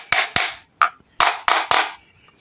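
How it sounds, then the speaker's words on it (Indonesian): A MODOFO air mattress pump is struck on its stuck part to free it: six or seven crisp, loud knocks up close, coming in small uneven clusters with short silences between them. "Kita akan bantu getok di sini juga sedikit demi sedikit,"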